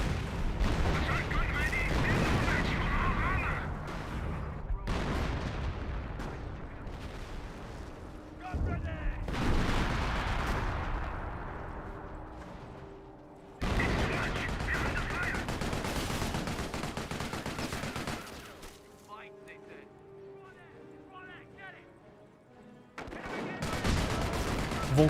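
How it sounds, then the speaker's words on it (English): MG42 machine gun fire in Company of Heroes, with sustained bursts of rattling gunfire and artillery booms rolling through a dense battle soundscape, partly under a commentator's voice. "Got these guys getting suppressed by the MG42, who's also still severely wounded."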